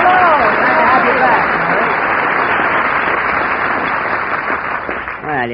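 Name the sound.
studio audience applause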